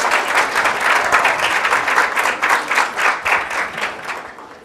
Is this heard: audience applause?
yes